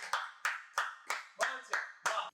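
Seven sharp, evenly spaced claps ring out one after another at a poetry recital, a Hindu devotional kavi sammelan on Shri Ram, each hit distinct and fairly close.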